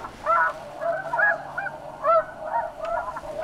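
A flock of wild snow geese honks and calls repeatedly, a busy overlapping chorus of nasal calls at moderate distance during a conservation hunt, with no talk over it.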